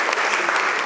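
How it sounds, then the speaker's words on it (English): A room of education conference attendees gives a brief burst of applause, dense and close clapping that fills the whole short moment at full strength. "Could we give him a round of applause,"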